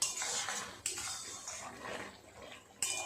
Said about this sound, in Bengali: খুব আলগা আলগাভাবে একটু নেড়ে দিলাম